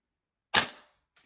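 Single sharp, close crack of a Double Eagle Noveske airsoft rifle with a tight-bore barrel firing a 0.2 g BB, decaying quickly, followed by a faint second click.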